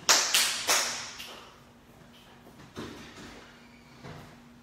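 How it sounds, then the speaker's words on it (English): An office door swung shut, with a few sharp knocks and thuds at the start and softer bumps and taps following, heard nearby in a quiet room. "I just had to close the door because they're quite doing something else in the other office."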